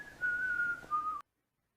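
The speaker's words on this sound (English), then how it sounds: "he took to whistling while he walked back and forth to the library" A man whistles a single sustained note that wavers slightly and dips once before cutting off abruptly, clear and moderately close in a quiet setting.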